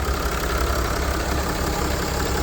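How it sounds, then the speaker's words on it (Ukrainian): The three-litre engine of a Mercedes Sprinter 316 refrigerated van idles steadily and close by, a continuous low rumble with a faint knocking texture and no other sounds. "заведений трьохлітровий двигун дає температуру мінус 20. Зверніть увагу, як він працює."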